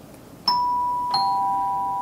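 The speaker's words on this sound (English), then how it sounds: "when you push it makes the bell ring" An electronic wireless doorbell chimes inside a house, two clear ding-dong tones struck about half a second apart, each ringing on and slowly fading, close and fairly loud in a quiet room.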